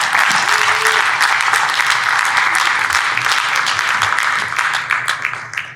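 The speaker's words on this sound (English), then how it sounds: "Let's give another round of applause to the filmmakers." A theater audience at a youth film screening claps for the filmmakers, a loud, full burst of applause that holds steady before thinning out at the end.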